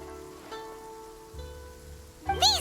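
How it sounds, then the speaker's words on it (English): Rain in Genshin Impact falls as a soft, steady patter on surfaces under game music tones, ending with a brief bright chiming burst; no one speaks. "And it's raining, so they are gonna be electrified."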